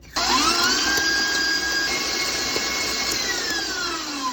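An electric stand mixer beats butter and eggs for tres leches cake batter, a loud steady high whine running continuously with a slight pitch drift, alone without talk.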